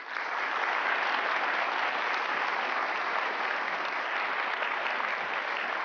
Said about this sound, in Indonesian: Sekali lagi kita kasih tepuk tangan untuk 2 kandidat.